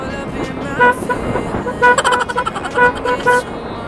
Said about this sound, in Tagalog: Check natin yung busina guys. Okay pa rin yung tunog niya,